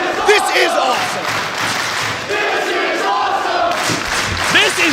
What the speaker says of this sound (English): And this crowd is right. This is awesome.